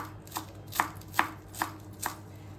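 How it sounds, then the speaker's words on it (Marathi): A knife chops fresh coriander leaves on a board: five crisp, evenly spaced taps close by, with no talking. "कोथिंबीर पण चिरून घेते।"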